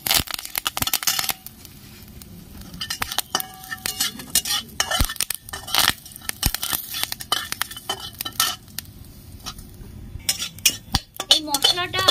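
A spoon stirs a spice mixture into water in a metal vessel, with scraping, clinking and splashing strokes, close and fairly loud, continuous over several seconds.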